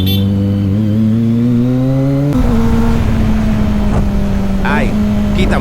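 A motorcycle engine revs hard on a road, a rising whine that drops and settles into a steady buzzing drone with throttle blips, loud and close, while a voice talks over it.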